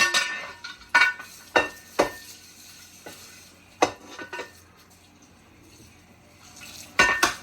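Pots and dishes being scrubbed and rinsed in a home kitchen, with sharp metallic clanks and clinks scattered irregularly over a low running background, a few loud knocks standing out near and alone without talk.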